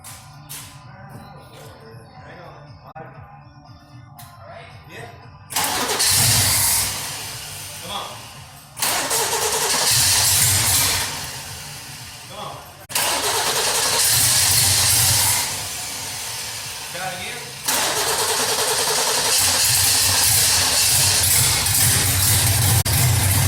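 A 1966 Ford Mustang engine cranks and catches, its loud idle surging and settling in repeated bursts after a quieter opening with some talking.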